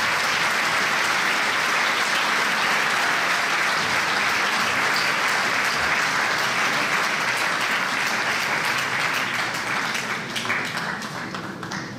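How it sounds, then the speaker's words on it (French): A crowd at a mayor's New Year reception in France applauds as several women are called up onto the stage, a dense, steady clapping that holds strong for the whole stretch and thins slightly near the end. "Les applaudir."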